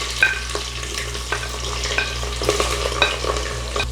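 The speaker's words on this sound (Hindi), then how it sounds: "और इसे हम थोड़ा सा फ्राई करेंगे।" Thin, long potato slices fry in a pan with a steady, close sizzle, with occasional clinks and scrapes from stirring.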